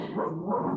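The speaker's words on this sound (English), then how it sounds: "That's my dog." A dog gives a single short bark, close and clear, with nothing else around it.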